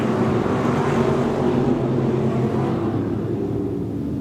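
Stock cars and hobby stocks race on the Off Road Speedway dirt track, their engines a dense, loud roar that swells and fades slightly, with wind buffeting the microphone.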